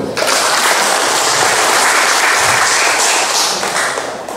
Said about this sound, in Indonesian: Mau kasih tepuk tangan boleh